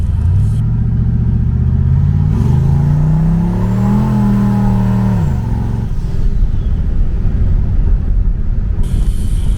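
A turbocharged Ford Fairmont no-prep drag car launches hard from a dig, engine revving and climbing in pitch for a few seconds before backing off into a loud rumble.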